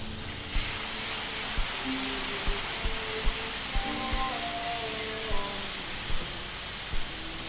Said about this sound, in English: Ah, this blasted steam!